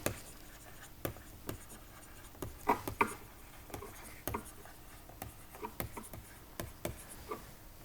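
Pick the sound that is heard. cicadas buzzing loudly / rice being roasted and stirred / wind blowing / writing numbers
writing numbers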